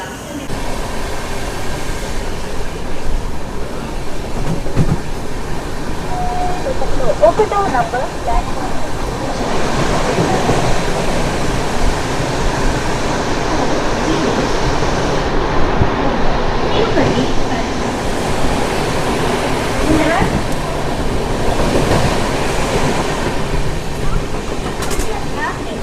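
Sabari SF Express rolling on rails after leaving platform 3 at Tirupati, a steady loud rumble and rattle filling the whole stretch, with voices talking over it.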